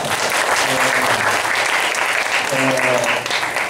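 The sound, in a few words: welcoming applause from church group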